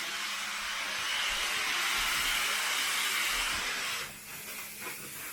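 A Rotovac Shear Dry machine drying a mattress gives a loud, steady rushing hiss of air close by, then drops in level and turns more uneven near the end.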